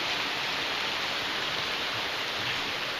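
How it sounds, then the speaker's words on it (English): Heavy rain falling steadily around a workshop, a dense, even hiss that holds constant throughout with no other sounds standing out. "Raining really good."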